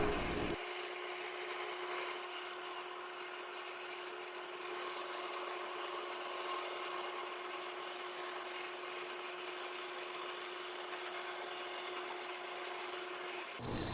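Mini lathe facing a 1.5 inch aluminum scrap part, a steady motor whine with a continuous cutting hiss that runs evenly for the whole span and then stops abruptly.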